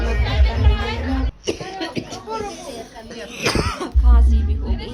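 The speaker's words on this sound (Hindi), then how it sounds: "खांसी भी हो गई है मेरे को" A woman with a cold coughs a few times close up in a small rented room, short rough bursts set among lively talk and background household noise.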